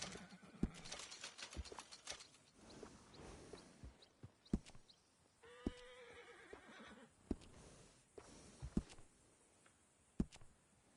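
A horse in the video game Red Dead Redemption whinnies in the middle of scattered hoof clops and soft rustling, all fairly quiet and close.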